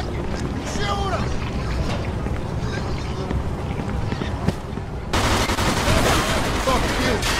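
Gunfire erupts in a Mafia II shootout, dense bursts of shots and impacts mixed with loud game sound, with voices shouting over it.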